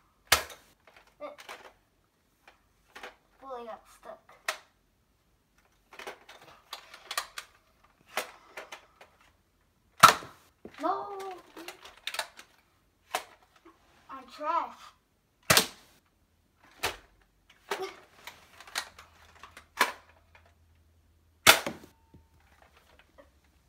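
Gunshots in a FNAF hunting video game, sharp single cracks spaced several seconds apart, with a voice speaking between the shots.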